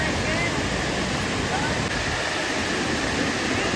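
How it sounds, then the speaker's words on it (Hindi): A waterfall at Barwa Ghat in Bokaro roars as a dense, steady wash of falling water, loud and unbroken from start to finish. "यहाँ पे देखिए पानी का झरना कितना है ना वहाँ पे।"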